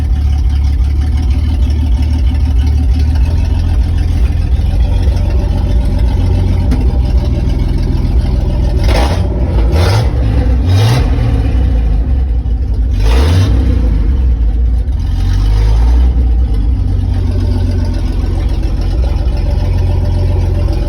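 A Jeep Comanche MJ 4x4 pickup with a five-speed manual rumbles at low speed, a steady engine drone with a few short revs and clunks partway through, close and loud, no talk.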